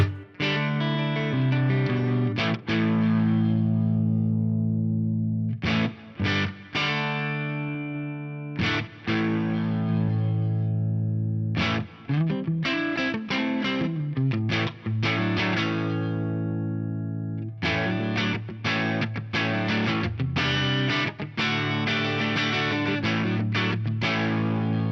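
Clean electric guitar phrases run through a GFI Specular Tempus pedal on a room reverb setting: sustained chords and single notes ringing out with short natural decays, loud and close, no talking.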